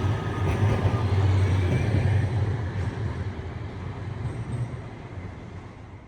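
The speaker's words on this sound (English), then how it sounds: "For now, a tram is approaching, and I absolutely love trams" An Amsterdam tram approaches on its rails with a low rumbling roll and a faint metallic hum, loudest early on and easing slightly as it moves along.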